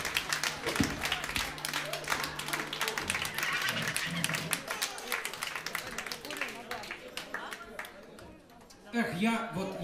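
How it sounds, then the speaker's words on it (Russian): Applause at a birthday concert: dense clapping fills the room, with voices mixed in throughout, dropping off briefly near the end before a short renewed burst. "аплодисменты, аплодисменты!"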